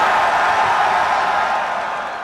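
A large rally crowd of more than ten thousand cheers for Donald Trump, a dense, loud, continuous roar that fades slightly toward the end.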